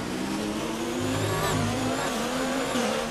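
Formula 1 car engine in the racing video game F1 2019, a loud, sustained high-pitched whine with shifting pitch as it revs, steady throughout without speech.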